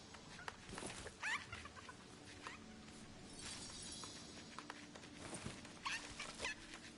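Chickens clucking in the video game Lego Fortnite, a few short scattered clucks over a busy, faint game-world background, with no speech.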